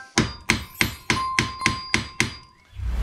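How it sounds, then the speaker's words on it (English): A hammer strikes a small bolster chisel set against a stuck bolt on a vintage Ransomes Marquis cylinder mower: seven sharp, ringing metallic blows at a steady rhythm, close and loud, with no speech. "I've just used a bolster chisel, a very small one, just to put that into there, just to try and shock the bolt a bit."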